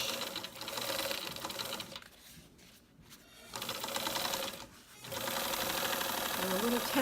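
A sewing machine runs a seam with a back stitch, its fast mechanical whirring close and loud, pausing twice briefly before starting up again.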